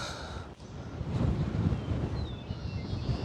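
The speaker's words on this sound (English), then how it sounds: "it just feels like a joke out here how windy it is" Strong wind buffets and rumbles against the microphone in continuous gusts on a Kentucky disc golf course, with a brief dip before the roar picks up again.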